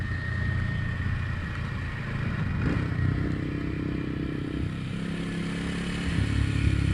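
Kawasaki W230 (Meguro S1) 233 cc single-cylinder motorcycle carrying two riders, engine braking on the road: a steady low engine drone with wind rush and road rumble throughout, close and continuous, slight rise toward the end.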